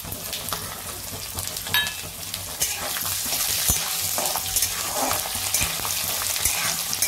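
Garlic fries on low heat in a pan with peanuts and curry leaves for Kolhapuri bhadang, a dense, steady crackling sizzle with scattered pops and stirring scrapes, close and continuous without speech.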